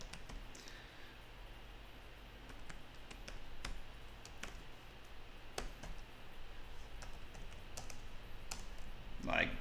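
Steady keyboard typing as code is entered for an ESP32 board in the Arduino IDE: scattered sharp key clicks at close range over a low hum of room noise, growing a little busier toward the end.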